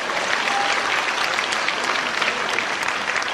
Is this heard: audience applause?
yes